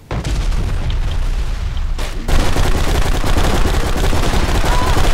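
In the Blacksite: Area 51 video game, heavy booms and rapid gunfire from grenades and weapons crack loudly and steadily, with a louder burst of shots joining partway through.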